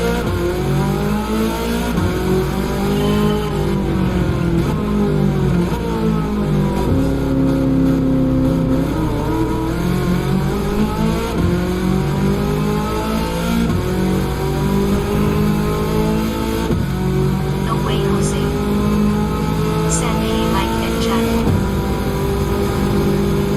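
A race car engine in the Gran Turismo racing game drones loud and continuous, its pitch sweeping up and down through gear changes as the car accelerates and brakes, with no speech over it.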